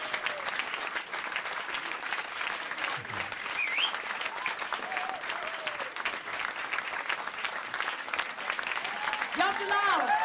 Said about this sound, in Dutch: En een groot applaus voor Jan Terlouw.